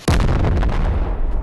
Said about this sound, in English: who keeps on blowing everybody up